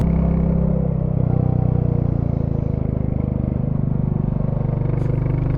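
Royal Enfield Classic 350 single-cylinder motorcycle on the move toward winding roads, its low, steady engine drone and thrumming exhaust sitting close and loud throughout, with slight swells of throttle and wind rumble.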